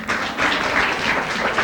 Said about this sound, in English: Come on, you're going to applaud this?